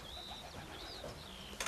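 A racing pigeon at its loft gives a faint, soft coo in a quiet outdoor setting, brief and distant, ending with a short rustle.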